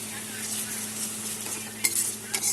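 Spiced paste sizzling in a pan for a Bengali tilapia curry as water is poured in and stirred, a steady close hiss broken by two sharper splashy bursts near the end.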